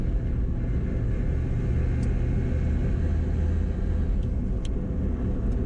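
A 1963 Chevrolet Corvette Split Window Coupe engine, heard as a constant loud low rumble from inside the car while driving, with a few faint high clicks over the drone.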